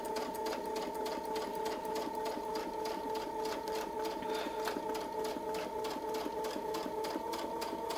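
A sewing machine runs steadily, stitching a heart shape along a template with rapid, even needle strikes and a constant motor hum throughout, close and moderately loud with no talking.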